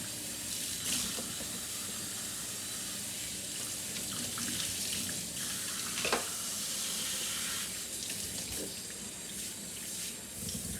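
A kitchen tap runs steadily into the sink while a dish is rinsed, a continuous hissing splash that shifts now and then as the water hits the surfaces, with no talking.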